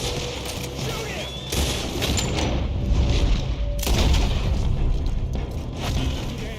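Gunfire in the video game Red Dead Redemption keeps up dense, booming volleys of shots under excited voices, loud and continuous throughout.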